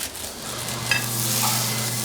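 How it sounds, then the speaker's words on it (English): Food sizzles steadily and loudly up close as it chars, a continuous hissing crackle with a brief clink partway through. "when you're taking it off, you hear that sizzle, that sound"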